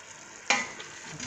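Meat and onions frying in a cooking pot, a sudden sizzle that starts abruptly and hisses steadily, close and fairly quiet.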